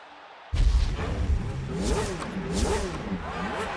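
Race car engines fire up suddenly on the starting grid, then rev up and down in repeated loud surges that rise and fall in pitch.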